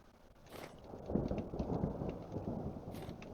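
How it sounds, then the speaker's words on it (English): Thunder and rain during a lightning storm in the survival game Vintage Story: a low rolling rumble swells and lingers under steady soft rainfall, fairly faint and distant, with no voices. "Got lightning storms."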